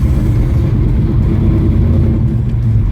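Shelby GT500 tribute car from 1967 with 450 hp and a manual gearbox, its engine rumbling loud and steady while driving, a deep continuous low drone with no talk.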